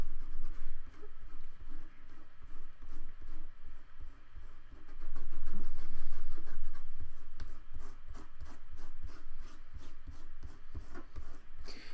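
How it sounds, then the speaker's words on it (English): Wet paper is rubbed off an image transfer in a journal by fingertips, giving close, soft rhythmic scrubbing and rasping strokes in repeated bursts, with one stronger sustained stretch midway. "if I rub it, it should come off pretty much completely"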